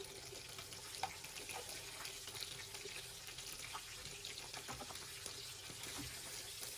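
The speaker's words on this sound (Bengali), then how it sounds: "মাছগুলো আমি ভেজে নিচ্ছি হালকা করে।" Tangra fish fry lightly in a pan, giving a faint, steady sizzle and crackle with small pops scattered through it and no talk.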